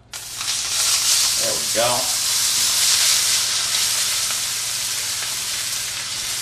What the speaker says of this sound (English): What we're going to do is we're going to sear.